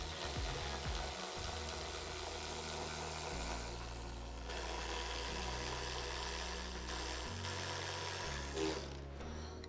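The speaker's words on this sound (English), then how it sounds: "I'm just gonna grab my electric ratchet" An electric ratchet runs steadily as it drives a bolt down through the frame of a Can-Am Maverick X3 ATV, its whirring motor stepping in pitch as the load changes, continuous and close for most of the stretch.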